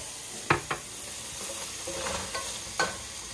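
Minced garlic and onions sautéing in a soup pot, a quiet steady sizzle marked by a few sharp stirring scrapes near the start and end, with no talking.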